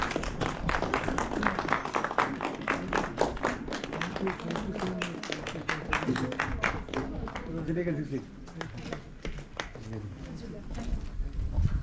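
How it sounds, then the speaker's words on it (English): Audience at a university closing ceremony in Ladakh gives a round of applause, many hands clapping in a brisk, uneven rhythm that thins out toward the end, with a voice heard partway through. "I would request everyone for a huge round of applause"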